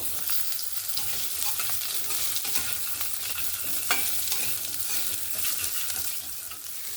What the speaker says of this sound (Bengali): ওই তেলের মধ্যে আমি আলুগুলোকেও ভেজে নেব